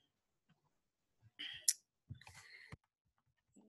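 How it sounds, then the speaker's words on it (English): A computer mouse clicks a Transactions link in a student organization's account page, giving a few quiet, sharp clicks in two short clusters with near silence between them. "we're going to click transactions"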